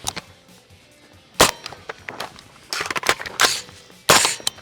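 A 300BLK PDW rifle fires several sharp, loud gunshots outdoors, one single crack followed by a quick cluster of shots and then another heavy report near the end.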